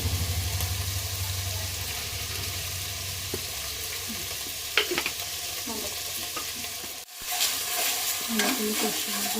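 Spices with turmeric, Kashmiri chilli powder and cumin powder stir-fried in a pan for a potato curry, a steady close sizzle with scraping stirs, briefly cut off for a moment before resuming.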